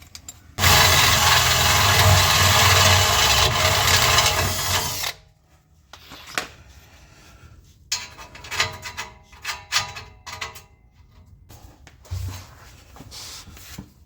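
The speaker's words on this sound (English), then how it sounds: "We've got our hole drilled in our pipe" A step drill bit bores a hole in an exhaust pipe with a loud, steady close-up whine for about four seconds, then stops, leaving metallic clinks and handling noises of tools and pipe.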